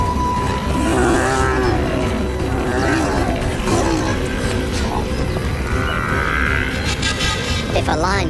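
Lions attacking a herd of buffalo, heard as loud, continuous roaring and grunting with bellowing animals over dense wild-animal commotion, sustained throughout with bursts of higher cries near the end.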